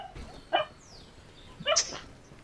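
A small dog yaps twice in a video game, two short high barks about a second apart, fairly faint, with a soft whine drifting between them.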